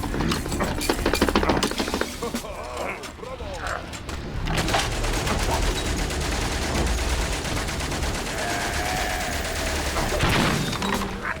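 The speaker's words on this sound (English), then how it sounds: "Machine guns." Automatic machine gun fire in the World War I video game Valiant Hearts, rapid rattling bursts loud near the start, then a dense, steady din of battle noise continuing under game sounds.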